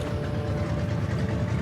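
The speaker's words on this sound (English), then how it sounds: "press the electric starter button, and we'll get to hear the engine starter sound and the engine idling sound" A radial aircraft engine in a flight simulator drones in a steady, dense, low rumble with a faint tonal hum, holding even loudness without changes or breaks.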